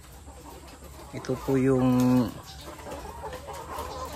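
Chickens in an egg layer building on a farm cluck around a speaker, with one bird letting out a loud drawn-out call near the middle over a steady barn background.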